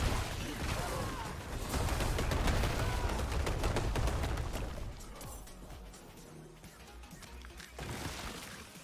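Rapid bursts of automatic gunfire in a first-person shooter video game, dense and loud for several seconds, then easing off before another burst near the end.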